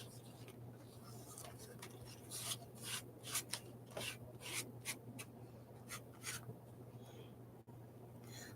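Decoupage paper on a book is rubbed smooth with soft, repeated scratchy strokes, close and quiet over a steady low hum.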